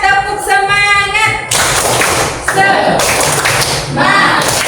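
Classroom students clap in a quick rhythmic pattern for the "tepuk semangat" cheer, sharp bursts of claps between shouted chanting and talking voices, loud and close.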